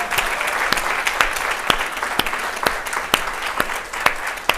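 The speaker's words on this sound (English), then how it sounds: "let's give the Haitian Ladies Network a round of applause for gathering us again" A crowd claps steadily at a Haitian Ladies Network symposium, a dense wash of applause punctuated by sharp, close individual claps, loud and sustained across the whole stretch with no talking.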